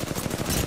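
Rapid burst of gunfire in a first-person shooter video game, a dense string of close, loud shots across a fraction of a second with no talking.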